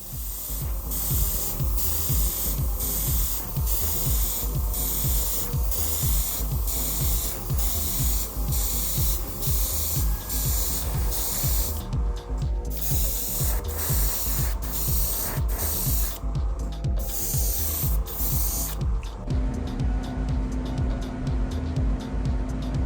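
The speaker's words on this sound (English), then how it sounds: "Some baby powder is added to the primer and then sprayed into the tub." Airbrush spraying matte primer mixed with baby powder into a scale-model car tub on a Hasegawa Porsche 968 kit, a steady close hiss running throughout, with short rhythmic pulses and a faint mechanical hum underneath.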